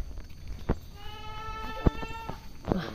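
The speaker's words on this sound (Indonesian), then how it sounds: "Itu kambingnya." A goat gives one clear, wavering bleat, close and moderately loud, set between a few sharp knocks and bumps outdoors.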